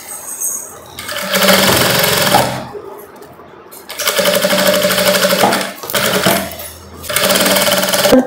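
A sewing machine stitches around the neckline and lining of a long gown in three loud, close bursts of rapid needle chatter, each a second or two long and separated by brief quiet pauses.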